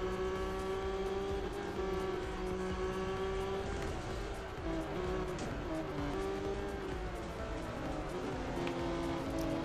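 Racing car engines in the Real Racing video game, played on a Xiaomi Mi Box 4K: a steady, continuous engine whine with shifting pitch and layered motor tones from several cars, with no talk.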